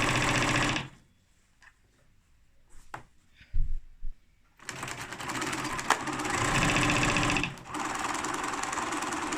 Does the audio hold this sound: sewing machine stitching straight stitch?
yes